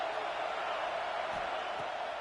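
A stadium crowd at a USC football game roars steadily behind the defense on a big third down, a dense, continuous wash of distant cheering with no breaks.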